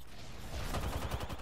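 Gunfire in a battle royale shooter crackles as a short, loud burst of rapid shots close by, with no voices over it.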